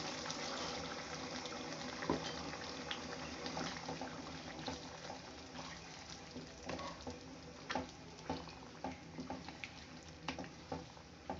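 Water poured into a pan of simmering prawn curry, a soft continuous splashing and bubbling patter, quiet and close, with no voices.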